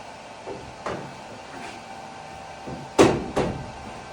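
A steel door for a 1982 Chevrolet K10 truck under rust repair is set in place for a test fit, giving a few hollow metallic clunks and bumps, the loudest pair near the end, with no talk.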